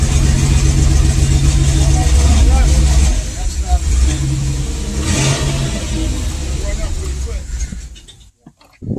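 A 1995 Pontiac Firebird 3.4L V6 running after carb cleaner was sprayed into the intake manifold, a loud close engine drone with some revving that settles and then cuts off near the end, with voices under it.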